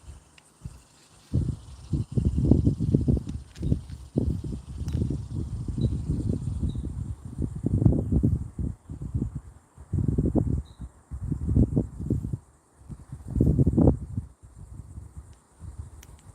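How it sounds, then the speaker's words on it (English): Gusts of wind buffet the microphone outdoors at a lakeside park, coming as loud, low rumbling bursts that rise and fall irregularly, with faint insect chirps in the background. "Wind feels nice, but it sounds pretty bad on the microphone."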